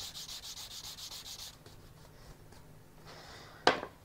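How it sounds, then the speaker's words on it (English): Wood being sanded by hand with 240 grit sandpaper, quick rhythmic back-and-forth rubbing strokes up close, then a pause with quiet handling and a short sharp scrape near the end. "I'm just using a 240 grit sandpaper and I'm just going to give it a bit of a sand"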